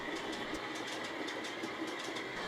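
A model railway train runs along its track on a layout, a steady rolling rush with faint rhythmic clicks from the wheels, continuous and moderately quiet with no voices.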